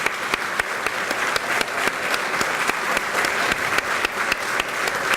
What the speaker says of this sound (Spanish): para recibir nuevamente un caluroso aplauso de parte de todos nosotros.